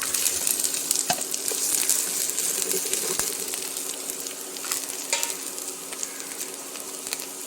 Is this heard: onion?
yes